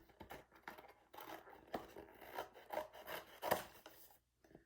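Scissors cut out a paper or cardboard rectangle for a Mother's Day paper flower craft, a run of close, uneven snipping and rasping strokes that ends in a short pause.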